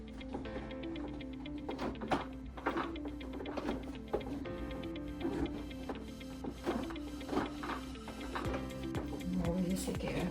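A sewing machine stitches a jeans hem in a steady, rhythmic run of mechanical clicking and thumping, moderately close, with sharper knocks scattered throughout.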